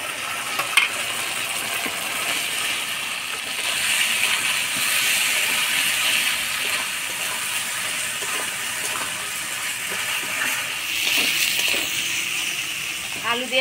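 Potatoes frying with masala, turmeric and salt in a pan, giving a steady close sizzle and hiss with occasional clinks of utensils.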